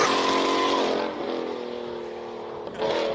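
A Ferrari 488 GTB lines up at the start of the King of the Mountain hill climb in Cape Town, its engine holding a loud steady drone, then dipping slightly before a sharp rise.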